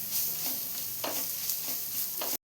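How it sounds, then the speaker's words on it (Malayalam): Spoon stirring spices into a chicken pasta mixture in a pan, a faint sizzle underneath with soft rhythmic scraping strokes about every half second, close and quiet, no talk. "എല്ലാം കൂടെ ഒന്ന് മിക്സ് ചെയ്ത് കൊടുക്കാം."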